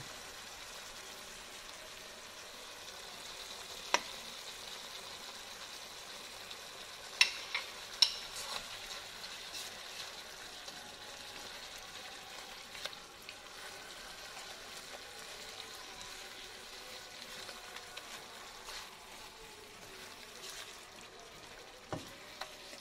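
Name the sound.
stirring red snapper woku in a pan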